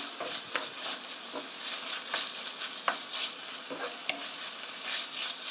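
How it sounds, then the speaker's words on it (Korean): Meat sizzles as it is stir-fried in a pan for a sweet bean jjajang sauce, with a steady frying hiss broken by repeated scraping spatula strokes at close range. "고기가 하얗게 될 때까지 볶아주세요"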